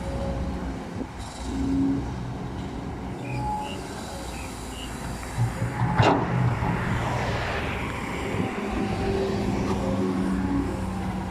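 A Kobelco SK200 Super YN12 excavator works on a four-lane road-widening earthmoving job, its engine a steady low drone with a metallic clank and squeal partway through, heard at a moderate distance with no talk.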